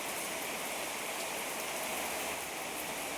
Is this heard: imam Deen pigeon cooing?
no